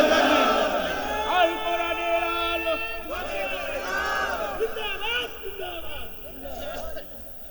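A large crowd at a Bengali Islamic waz sermon gathering shouts the takbir in unison. Two or three loud chanted calls of massed voices rise and fall, followed by scattered voices as the response dies away.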